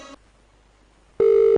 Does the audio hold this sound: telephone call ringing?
yes